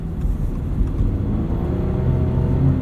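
A rear-wheel-drive Subaru BRZ travels through winter snow, its engine droning steadily with a low, constant rumble and road hiss heard from inside the car, with no talking.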